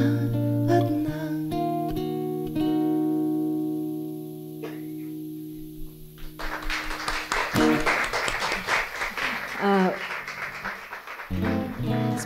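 Applause from a concert audience follows a song, first held musical tones, then a burst of dense clapping that swells and continues before the notes return at the end.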